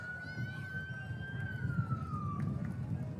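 Ambulance siren sounding one long, gently falling wail as emergency vehicles roll by in a Fourth of July parade in Forks, clear over a steady low rumble of crowd and engine noise.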